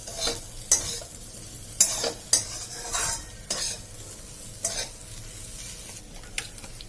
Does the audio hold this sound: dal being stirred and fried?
yes